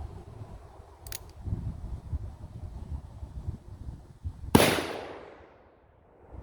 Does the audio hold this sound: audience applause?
no